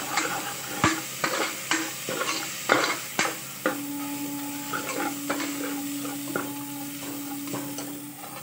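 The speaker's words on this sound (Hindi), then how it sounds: "उसके बाद इन सबको अच्छे से मिला देंगे।" Spices being stirred and fried in a pressure cooker while making lauki sabzi; a spoon scrapes and clinks in steady strokes over a soft sizzle, close up, with no talking.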